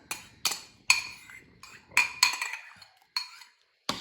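A metal spoon clinking sharply against a pot while stirring pastina, about eight distinct close, bright knocks and scrapes in an irregular rhythm with short quiet gaps between.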